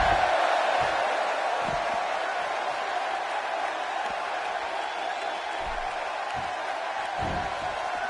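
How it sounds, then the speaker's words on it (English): Arena crowd in the WWE 2K16 wrestling game, a steady broad roar of cheering spectators held at an even level throughout, with faint scattered low thumps underneath. "by the sound of this crowd, I think they're getting what they wanted"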